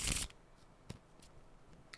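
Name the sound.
shuffling cards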